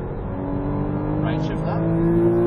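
A Porsche Cayman S accelerates on a race track at Exotics Racing in Las Vegas, its engine note climbing steadily in pitch and loudness as the throttle is squeezed, with a brief tire noise midway.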